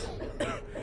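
A single short cough in the Syphon Filter 2 game at McKenzie Airbase interior, one brief burst set against a steady low background hum.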